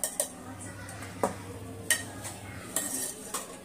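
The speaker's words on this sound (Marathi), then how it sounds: "मी कांद्यासोबत अंडा चांगली मिक्स करून घेतलाय" Eggs being mixed with chopped onion in a bowl, a spoon clinking and scraping against the sides in irregular taps and strokes, close and fairly quiet, with faint background hum.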